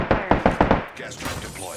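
A quick burst of video game gunfire, five rapid sharp shots in an even rhythm followed by a tail of game effects and a voice speaking over it.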